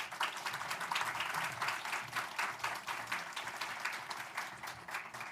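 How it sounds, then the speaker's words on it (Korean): A church congregation at a Sunday service applauding an arriving pastor, with steady, moderately loud clapping that fills the room and continues throughout. "우리 나오실 때 한번 큰 박수로 격려해 주시길 부탁드립니다."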